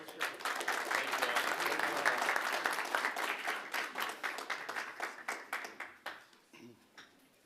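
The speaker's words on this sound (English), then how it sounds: "Big round of applause." An audience at a school board meeting gives a warm round of applause, a full crowd of clapping hands that holds steady and then thins into scattered claps before fading out.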